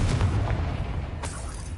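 A Confringo spell explosion in the Hogwarts Legacy video game: a deep rumbling boom that stays heavy and low, with a faint second burst near the end.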